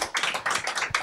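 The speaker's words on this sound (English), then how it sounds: "big round of applause for all our guests." Clapping for guests at a live Star Wars news prediction show, a small group applauding in uneven bursts, fairly close and moderately loud, with no talk over it.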